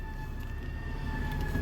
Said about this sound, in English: I'm apologize for this ambulance coming